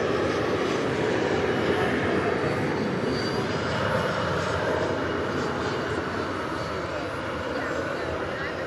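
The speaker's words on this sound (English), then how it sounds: "our third MD-11, which is now pulling out of the gate here just beside us" An MD-11 airliner pulling out of the gate at night at Dallas/Fort Worth airport, producing a loud, steady engine rumble and whine close by that holds evenly throughout.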